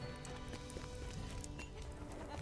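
Horse hooves clip-clop in the fantasy online game LOTRO, a quick, faint, rhythmic patter of light hoofbeats over soft game ambience.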